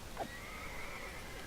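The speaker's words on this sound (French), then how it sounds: "Les chevaux, ils faisaient pas ce bruit quand ils mouraient en point 8." A horse in the Minecraft video game whinnies as it is killed, a single short rising-and-falling neigh that fades into a quiet, steady background hum.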